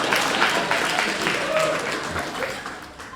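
Audience applause and clapping at a live stand-up comedy show, a steady dense patter of many hands holding at an even level across the whole stretch before easing slightly at the end.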